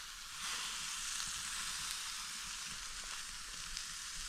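Fish and onions sizzle in a pan over a campsite stove, a steady close hiss with small crackles and occasional stirring scrapes, no voices.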